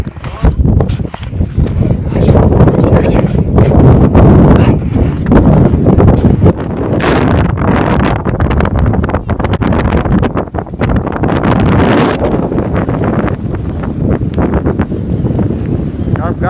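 Strong, steady mountain wind at about 2,133 metres near the Glacier de Chavière, Val Thorens, buffets the microphone with continuous roaring gusts, loud and close throughout.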